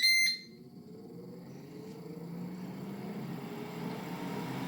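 A Ninja AF101CC0 air fryer with a fan noise problem gives a sharp beep as it is switched on, then its fan settles into a steady, moderate whirring hum that continues to the end.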